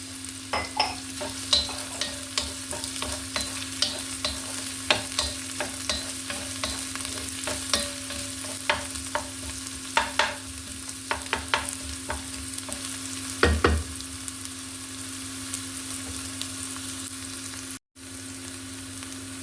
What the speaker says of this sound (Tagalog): Lagyan na natin ang bawang at sibuyas.